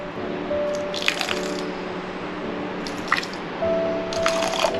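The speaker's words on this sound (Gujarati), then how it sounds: "લગભગ અડધો કપ જેટલું આપણે પાણી ઉમેર્યું છે" Water poured onto sugar in a pan to make a one-string syrup for a coconut and mawa sweet, heard as three short splashy bursts over a low steady kitchen hum.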